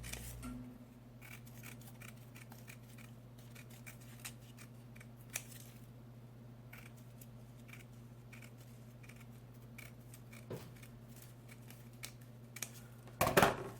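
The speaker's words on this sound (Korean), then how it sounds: "또 이렇게 머리카락 자르듯이 자르는데 끝부분을 살짝 남겨주세요" Scissors snip through paper while parts for an intermediate-level Build Force 2 Force Assassin paper robot model are cut out; the soft, close snips are fairly faint over a steady hum, with a louder cluster of cuts near the end.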